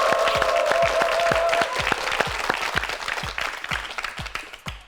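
Studio audience applause on a Korean TV quiz show, a dense burst of clapping that starts full and thins into scattered individual claps before dying away.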